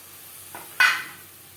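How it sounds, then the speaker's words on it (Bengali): Spice paste with red chilli powder for a pangas fish curry, hit with a splash of water in the pan: a faint scrape, then a sudden loud hissing burst that quickly fades, with no talking. "মশলা কষানোর সুবিধার জন্য দিয়ে দেবো সামান্য পরিমাণে জল।"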